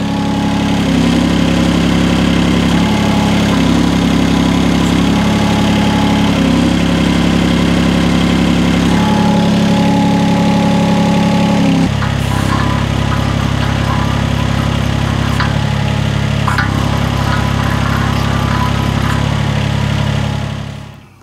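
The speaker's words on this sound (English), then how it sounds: "we've got the engine running now" A UHI UME 12 mini excavator fitted with an auger runs its engine close and loud, a steady idling drone throughout that shifts in tone partway through before cutting off at the end.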